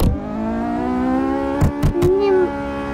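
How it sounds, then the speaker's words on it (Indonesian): Loud, steady drone of a Mazda car's noisy exhaust in the Roblox game, with harmonic engine tones holding throughout and a few sharp bursts and a rising rev near the end, under light talk. "dari tadi knalpot berisik amat dah"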